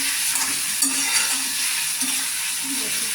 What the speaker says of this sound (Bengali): টমেটোগুলোকে একটু কষিয়ে নিচ্ছি।